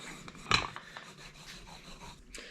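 Pie crust dough being rolled out with a rolling pin on a floured surface for a ginger blueberry pie, giving soft, steady rubbing and rasping strokes with one louder scrape near the start, close and quiet.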